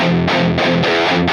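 Heavily distorted electric guitar through a Mesa Boogie Mark series amplifier, chugging in short palm-muted bursts, a loud, tight rhythmic pattern with brief gaps between the chugs.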